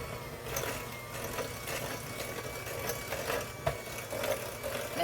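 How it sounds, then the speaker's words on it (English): An electric mixer churns chocolate chip cookie dough with a steady, close mechanical whir, its motor droning continuously with small rhythmic knocks and no talking. "do think I like this mixer. It seems like it's doing a great job."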